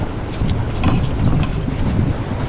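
Gusty wind buffets the microphone with a steady low rumble, rising and falling slightly throughout, with no voices.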